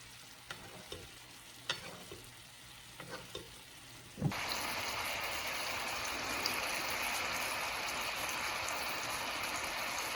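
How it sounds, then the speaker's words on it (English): Teriyaki sauce bubbles and thickens in a pan around Japanese chicken meatballs. A few faint taps come first, then a sudden, steady hiss of sizzling that fills the rest of the moment. "When the bubbles become larger and the sauce lightly thickens, it's done"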